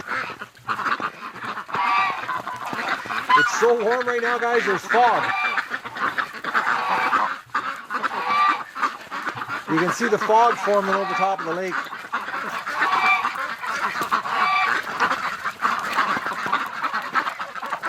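Ducks honk and quack near a foggy lake on a warm winter day, bursts of loud nearby calls recurring through the scene while someone talks over them.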